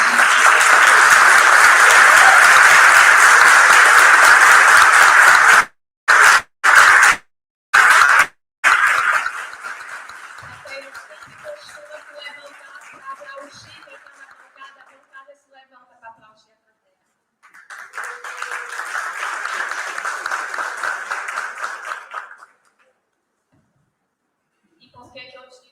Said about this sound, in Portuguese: Eu gostaria que a gente aplaudisse.